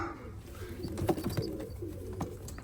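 Pigeons in a coop coo softly, low throaty murmurs rising and falling over a faint background hum, with no talking.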